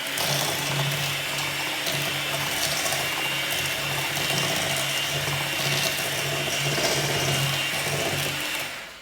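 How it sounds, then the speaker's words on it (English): Electric mixer whisking eggs and sugar for brownie batter, a steady, loud whirring drone with a constant motor hum, running unbroken for several seconds before cutting off at the end. "we are going to whisk your eggs and sugar together for about 5 minutes"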